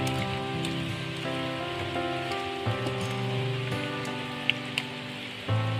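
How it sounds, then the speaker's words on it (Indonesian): Heavy rain pours steadily and loudly outdoors while pempek lenjer fish cakes are being made by hand nearby; a few brief sharp knocks stand out near the end, and no distinct thunder rolls can be picked out. "soalnya di sini hujan deras ya teman-teman, hujan dan geledek"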